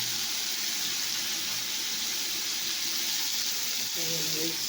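Green chilies sizzle steadily in hot oil in a pan, a dense continuous hiss throughout with a brief clink near the end.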